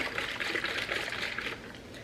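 A water jug with pink drink mix shaken by hand, giving a continuous sloshing, swishing rattle of liquid that is fairly close and steady for about two seconds.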